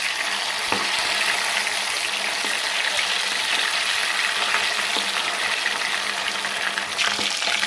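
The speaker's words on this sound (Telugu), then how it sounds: "చేపలు కొంచెం వేగినాయండి" Jalebi fish frying in oil in a pan, a loud steady bright sizzle that runs continuously up close, with a few faint clicks from turning the fish.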